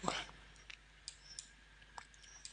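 A computer mouse clicks sharply, about half a dozen isolated clicks spaced irregularly over a couple of seconds, close and fairly quiet.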